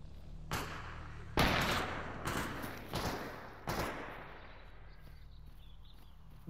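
A burst of shots from a firearm in the modded shooter STALKER Anomaly: four or five loud, sharp cracks spaced about a second apart, each trailing off, over a steady low game background with no talking.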